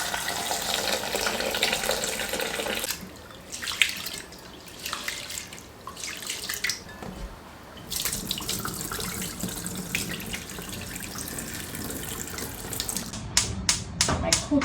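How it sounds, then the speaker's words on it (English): Rice being washed in water in a home kitchen, with running tap water, swishing and dripping at close range, pausing briefly before a few sharp clicks at the end. "So the first thing I'm going to be doing is to wash my rice."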